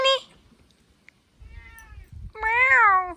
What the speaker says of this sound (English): Another cat stuck in the chicken coop.